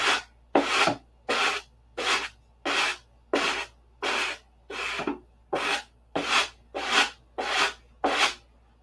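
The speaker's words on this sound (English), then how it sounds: "I'll get it sanded in a little better even" Sandpaper rubs across a balsa P-47 model airplane in thirteen evenly spaced, close rasping strokes, each about half a second long, separated by brief silences.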